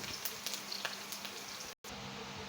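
Curry leaves fry in hot oil with mustard seeds over a low gas flame, giving a faint, steady sizzle and crackle with a brief dropout near the end.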